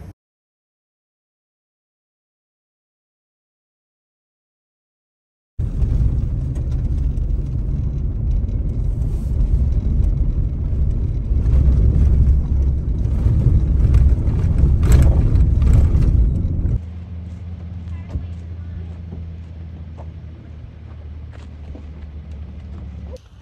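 An off-road vehicle crossing washboard dirt roads in the Sand Flats Recreation Area, with a loud, steady rumbling and rattling that begins after several seconds of silence and then drops to a quieter drone near the end.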